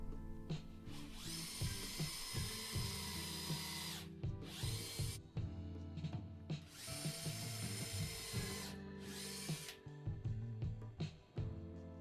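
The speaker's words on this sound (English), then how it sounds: "I'm just using an awl to mark out where I need to drill pilot holes." A power drill bores pilot holes for shelving brackets in four sustained bursts of high whine. The bursts come in two pairs, a long run followed by a shorter one, over a steady low hum with clicks and handling noise between them.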